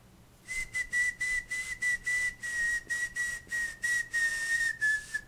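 A steady, high, thin whistle holds one pitch for several seconds, broken into short pulses like rapid breaths, close and alone.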